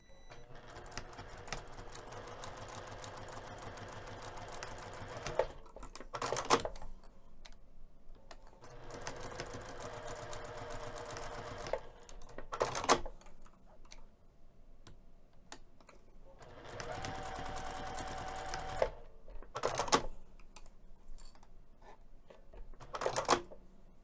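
A sewing machine stitching fabric for a coin purse, running in three long whirring rattly bursts, each followed by brief clicks and handling sounds, with quiet pauses between them.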